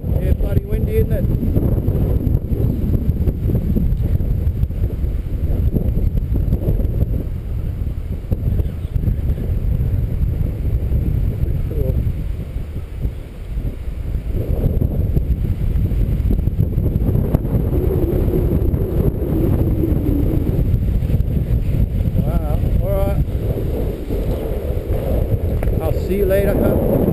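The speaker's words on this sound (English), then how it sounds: "Yeah, bloody windy, isn't it?" Strong gusts buffet the microphone outdoors in a steady, loud low rumble that barely lets up for the whole stretch, with a brief lull near the middle.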